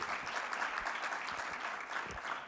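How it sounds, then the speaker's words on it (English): A conference audience at a ports event breaks into steady, dense applause, many hands clapping together at full strength for the whole stretch with no voices on top. "that deserves a round of applause"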